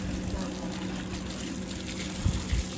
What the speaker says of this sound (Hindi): अभी ठंडा पानी आ रहा है